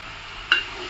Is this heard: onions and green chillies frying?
yes